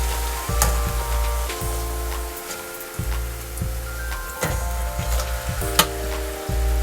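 Hot oil bubbles and sizzles steadily around ribbon pakoda dough being deep fried for Diwali, a continuous close crackle with scattered louder pops and a few low clunks, no voices.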